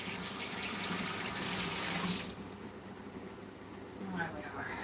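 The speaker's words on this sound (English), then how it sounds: "I'll just wash my hands again" A kitchen tap runs for hand washing, a steady splashing gush for about two seconds before being turned off, followed by softer rustling, with someone speaking faintly.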